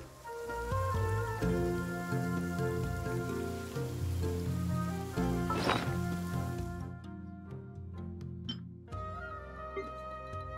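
A rain downpour in Genshin Impact patters softly beneath layered melodic game music, which drops away near the end and leaves sparse tones over the fading rain.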